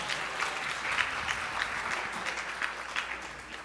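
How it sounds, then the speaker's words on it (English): Steady applause from a crowd at a Sunday program welcoming a speaker, a dense wash of clapping hands that holds evenly throughout without pauses. "With a huge round of applause and welcome."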